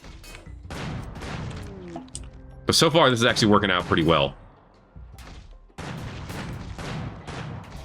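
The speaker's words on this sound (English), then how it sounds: "Yeah, these cannons are pretty strong." Cannons in the game Rimworld fire in a loud burst of several rapid, sharp booms lasting over a second, with someone speaking before and after the volley.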